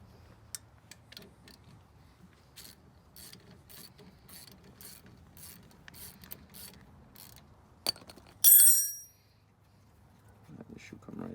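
Wrench working a brake caliper bolt on a Toyota Camry, with ratcheting clicks and metallic mechanical ticks in an uneven rhythm, close by, then a sharp metallic clank and a brief ring near the end.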